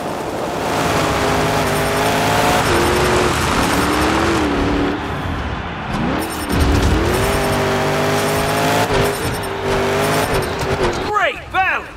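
The Thunderroarus monster truck engine roars loud and continuous through a Monster Jam freestyle run, revving and swooping in pitch, with tire squeals and an announcer's excited voice and crowd noise mixed in.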